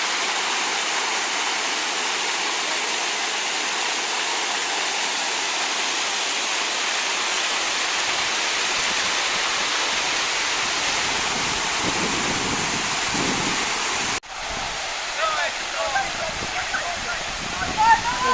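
Water jets streaming and splashing in a city fountain in Kharkiv, a loud, steady rushing wash heard up close, with a brief dropout and a slight change in tone near the end.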